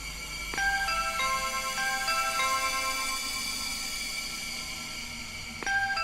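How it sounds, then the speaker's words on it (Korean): An electronic doorbell chime rings in descending tones, sustains and fades, then starts again near the end over a faint background hum. "문 밖에서 벨소리가 들렸다."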